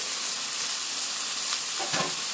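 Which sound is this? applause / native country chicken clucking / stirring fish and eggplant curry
stirring fish and eggplant curry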